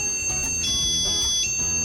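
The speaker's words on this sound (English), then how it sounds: "they will let out either like a beep or an alarm sound to let you know that that door has been left open" A door-open alarm sensor sold on Amazon gives a steady high electronic beeping tone that continues throughout with slight pulsing, loud and alone.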